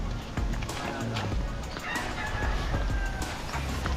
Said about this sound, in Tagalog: Namisig na yung manok ni Tilo